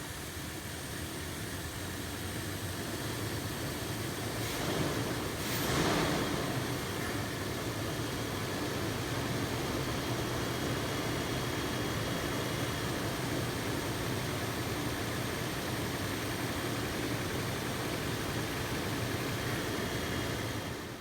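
A Toyota 4Runner engine, a little hard to start after a throttle body cleaning, fires up and settles into a steady, even idle that drones on without a break, with no talk over it.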